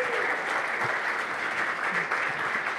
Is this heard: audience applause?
yes